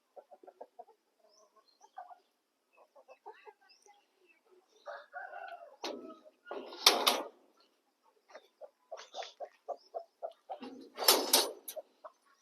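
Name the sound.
broody hens and rooster in a breeding room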